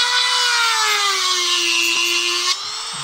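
A steady, high grinding whine of a round stone sharpening a Poulan Pro chainsaw chain, continuous and close, ending with a brief drop in level near the end.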